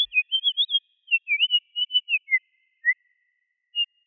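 Synthesized birdsong patched in VCV Rack with a free chorus effect: a string of quick, warbling chirps and whistled glides, clear and isolated, thinning to a few sparse calls with pauses near the end.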